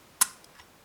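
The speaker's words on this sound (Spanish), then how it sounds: "primera un clic, segunda un clic" A sharp close click from a Mottura lock pin being picked, followed by a couple of much fainter ticks, in a quiet room.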